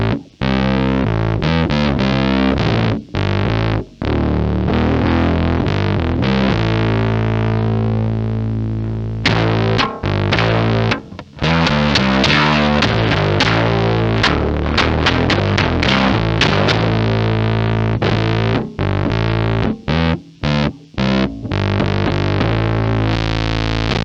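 Bass guitar run through a Dunlop Eric Johnson Fuzz Face fuzz pedal with the volume and tone rolled down, giving a thick, fat, saturated fuzz tone in loud sustained notes and chords with brief gaps, played alone without talk.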